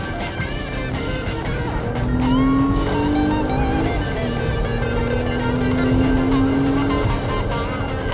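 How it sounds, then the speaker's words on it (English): A 2023 Nissan Pathfinder Rock Creek's V6 engine pulls hard under acceleration, a loud, steady engine roar rising in pitch through two gear stretches with a brief shift in between, heard close from inside the cabin. "one last V6 pull"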